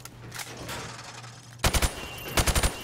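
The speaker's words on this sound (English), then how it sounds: "I want you to shoot the targets through the wood." Sharp gunshots crack through plywood targets on a Call of Duty firing range, two quick clusters of three or four loud shots each after a quieter stretch of ambient noise.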